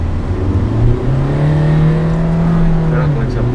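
A car with a dual-clutch (DCT) gearbox accelerates hard, its engine note rising smoothly and loudly from inside the cabin, with a voice briefly heard over it.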